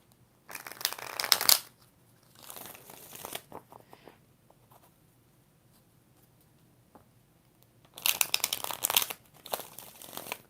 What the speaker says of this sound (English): Two more shuffles for Rashima Simmons and Lamar.